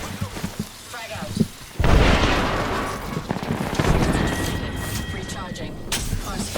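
A frag grenade explodes in the video game Apex Legends: a sudden loud broadband blast that decays into a rumbling tail over gameplay noise, with a voice speaking briefly beforehand.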